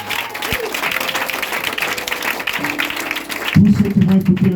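A church congregation claps together at a morning service, a dense burst of applause that swells louder toward the end, with voices and tones rising over it.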